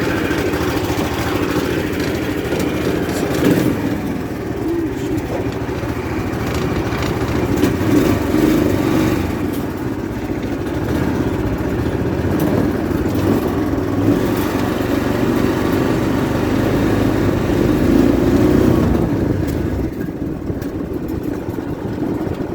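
A 420cc Predator engine on a go-kart runs steadily through a drive, a continuous close mid-pitched engine drone with slight surges in throttle and no talk.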